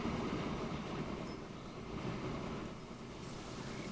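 A train runs in the video game Transport Fever, a steady low rumbling drone that holds evenly throughout with no voices over it.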